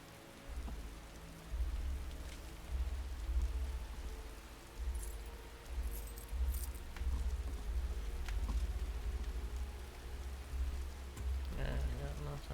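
Steady rainfall in the video game Skyrim, a continuous hiss of drops under low rumbling swells, moderately loud and unbroken across the scene while a voice speaks over it at times.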